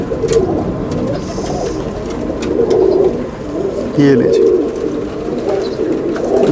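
Red-eyed pigeons coo softly and repeatedly close by, partly under a man's speech and steady background murmur.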